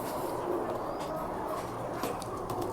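Soft, low roller pigeon coos repeat against a steady background hum, fairly close and unhurried, with no speech.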